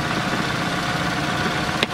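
A third-generation Toyota Vios Limo, formerly a taxi, idles with a steady, even engine hum close by, heard alone throughout.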